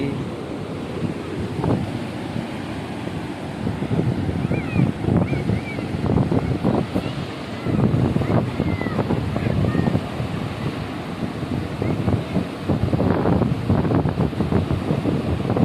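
Ocean surf rolls and breaks on Kuakata sea beach on the Bay of Bengal, a loud continuous roar with rhythmic surges, while strong wind buffets the microphone throughout.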